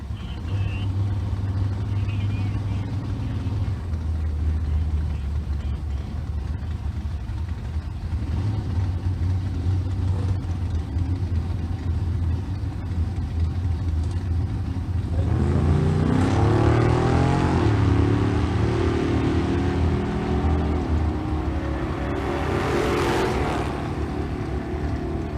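Drag race between a big block Mopar B-body Coronet and a big block swapped 1975 Ford Maverick with a 429 cubic inch 385 series engine, heavy engine roar throughout that swells loudly as the cars launch and pass.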